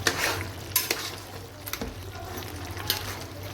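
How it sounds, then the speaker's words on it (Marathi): A vegetable curry with suran (elephant foot yam) is stirred in a pot: a spoon scrapes and knocks in several distinct strokes over a soft, steady sizzle, with no talk. "हे बघा भाजी घाटा मारूया."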